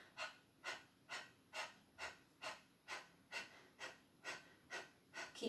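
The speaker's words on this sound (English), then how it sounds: "Keep going like you're pumping air out from here." Rapid diaphragm-driven pumping breaths during a mind-body exercise session, about fourteen sharp, even exhales in steady rhythm, close and clear with no talking.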